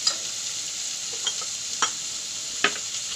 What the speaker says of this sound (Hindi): इसे थोड़ा हम भूनेंगे 1 मिनट तक का थोड़ा